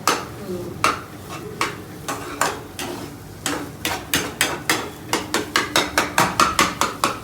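A metal spoon clangs loudly against a pot while stirring soup, first in scattered hits and then in a fast, steady run of sharp, close clanks.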